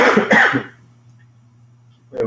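A person coughs twice in quick succession, close and harsh, then a short quiet stretch before another brief cough-like sound at the end.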